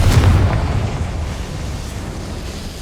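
Confringo blast spell exploding in the game Hogwarts Legacy, a loud booming burst at the start that rumbles and fades over a couple of seconds.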